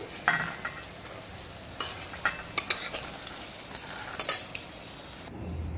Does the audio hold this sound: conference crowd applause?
no